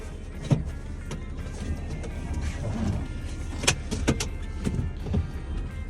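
A heavy Mercedes Sprinter W906 box van with tail lift, fitted with a swapped-in 3.2 OM648 engine, drives on a test run: steady low engine and road rumble with a few knocks and rattles, no talking.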